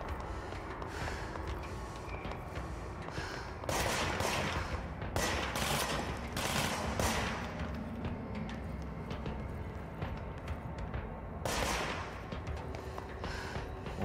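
Bursts of gunfire from enemies in the action video game Control, several volleys of rapid shots over a steady ambient game background, loud and close, with no talking.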